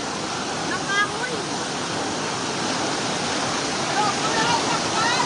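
Fast floodwater from Super Typhoon Carina rushes through a flooded Quezon City street with a steady, dense roar and no break.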